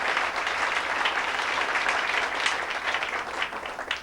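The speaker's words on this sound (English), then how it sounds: "How about one more round of applause?" A crowd at a 1992 25th class reunion for Jefferson Saints' Class of 1967 claps in a continuous, even roar of applause, loud and sustained throughout.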